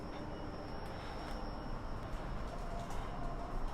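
An MRT train in Indonesia runs with a steady, even rumble and hum, heard from on board or nearby with no talk.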